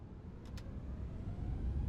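A faint double click from a Honeycomb Bravo throttle quadrant lever settling into the climb detent, brief and quiet over a steady low rumble of simulated airliner engines.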